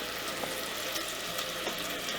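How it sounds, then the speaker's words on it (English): Mushrooms sizzle steadily in a hot pan, a constant crackling hiss with no voices. "Doesn't that sizzling on those mushrooms sound wonderful?"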